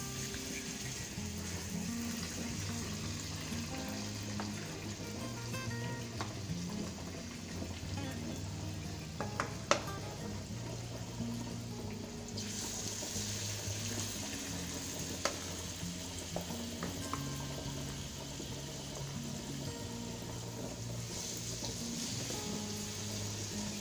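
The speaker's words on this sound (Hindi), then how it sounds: "इसके लिए इतनी मात्रा में बैटर लेके तेल में डालेंगे।" Urad dal batter for bhalle frying in hot oil, a continuous bubbling sizzle like light rain, with occasional soft clinks and stirring sounds and no talking.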